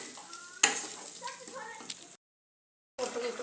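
Masala spices for bitter gourd fry in a pan and are stirred together, with a spoon scraping through a steady sizzle and a short silent break before the frying resumes.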